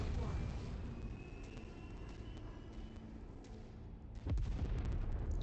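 Vehicle exploding in the mech combat game MechWarrior 5: Mercenaries, a low rumbling blast and debris under ongoing battle noise, followed by a sharper thump near the end, with a voice over it.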